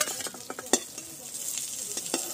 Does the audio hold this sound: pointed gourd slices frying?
yes